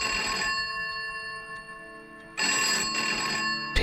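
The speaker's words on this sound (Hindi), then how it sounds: "और तभी कमरे का फोन बजा" An old room telephone in a beach-town horror story rings with a bright electronic bell, two bursts of trilling tone separated by a quiet gap, loud and alone.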